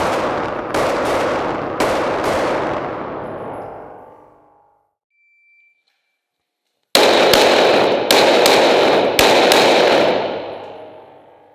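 Gunshots fired from behind low cover during an IDPA shooting stage ring out in two tight bursts of sharp, loud reports, three shots then four or five, separated by a few seconds of silence, with ringing decay after each string.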